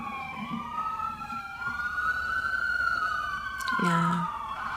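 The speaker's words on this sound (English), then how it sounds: "there's some sirens" A wailing emergency siren rises and falls in pitch, moderately distant, with a voice speaking briefly near the end.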